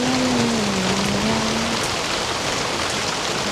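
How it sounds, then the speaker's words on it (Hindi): Steady, dense rain pours down close by, a continuous hiss of drops hitting surfaces with no voices over it. "बड़ी ही प्यारी बारिश हो रही है और खुशबू वाली हो रही है"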